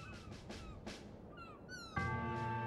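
A cat in the video game Trials of Mana lets out several short, rising meows in quick succession, followed by a sustained musical tone from the game's soundtrack swelling in near the end.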